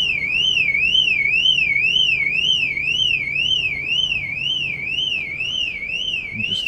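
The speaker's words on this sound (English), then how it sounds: "so the alarm going off, it's activated the VW alarm." A VW pickup truck's alarm, set off by a PIR sensor in the rear truckman canopy, wails loudly and steadily with a rapid warbling two-tone siren throughout, close by with no talk.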